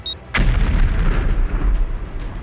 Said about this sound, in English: A second explosion tore through the module, destroying the power systems and data links.